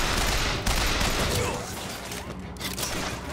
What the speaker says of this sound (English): Alright, get back out my machine gun.